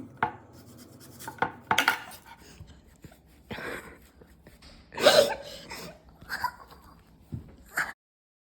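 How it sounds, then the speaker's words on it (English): A knife chops onions and tomatoes on a cutting board in irregular bursts of sharp taps, close up, with short pauses between runs. "now we're going to be chopping some onions and tomatoes"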